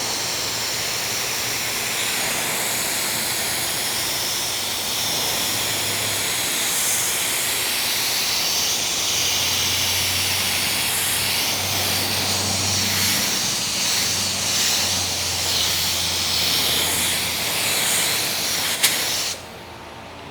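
Primer sealer sprays from an LVLP spray gun at about 13 to 14 PSI: a steady, close airy hiss running almost continuously, with slight dips as the trigger eases, then cutting off at the end.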